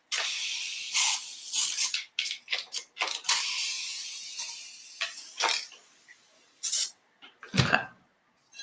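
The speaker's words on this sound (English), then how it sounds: "Spray this a little bit more. The water helps it release a little bit." Water spritzed from a spray bottle onto a paint inlay, a series of short, close hissing bursts in an irregular rhythm with brief pauses between, no talking.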